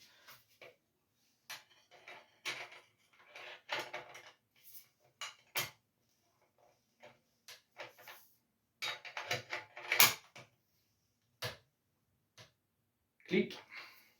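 A torque wrench ticks and clicks in short, sparse bursts while tightening parts on a Mondraker road bike in a quiet workshop, with faint handling noises between the clicks.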